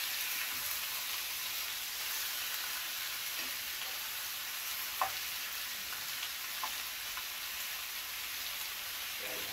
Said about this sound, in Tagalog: I-stir lang natin sa dito guys.